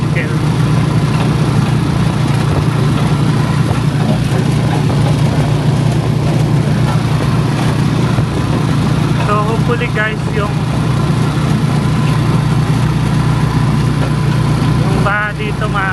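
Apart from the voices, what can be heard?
tricycle motor engine running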